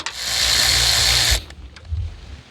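A power tool spins off the small 10mm pulley bolts during a water pump replacement on a 2007 Hyundai Sonata, giving one loud, steady whir of about a second and a half, then a few faint metallic clicks.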